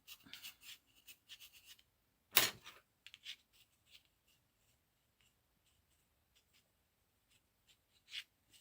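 A watercolour pencil marks paper in sparse, quiet scratches and short strokes, with one sharper louder stroke and long near-silent gaps between the faint, close-up marks.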